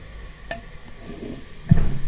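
Onions fry in a handi as they turn golden brown, giving a soft, fairly quiet sizzle with a couple of brief stirring scrapes, the louder one near the end.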